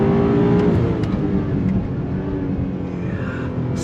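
A 2022 BMW M5 CS sedan's engine pulls hard under full throttle, a loud, steady, dense roar with rising harmonics sustained throughout, close and continuous with no voices.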